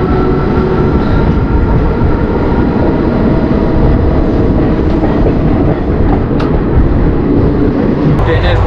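Indian passenger train running near Balasore station, a loud, continuous rumble of wheels and carriages heard close up from aboard, steady and unbroken throughout.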